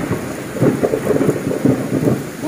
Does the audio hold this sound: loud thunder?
yes